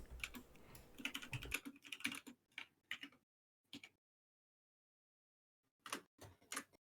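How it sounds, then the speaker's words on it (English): Someone types on a computer keyboard in quick, close bursts of clicking, stopping for a few seconds of silence and then starting again briefly. "just typing in chat, doing a little moderation"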